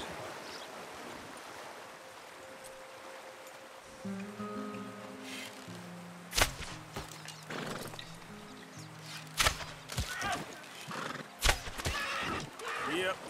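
A horse in Red Dead Redemption whinnies in long, wavering tones along with soft hoof clops near a stream, while several sharp, loud bangs break in toward the end.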